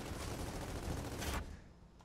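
Rapid gunfire in Gears of War 4, a sustained burst of automatic shots that cuts off abruptly after about a second and a half, leaving a faint tail.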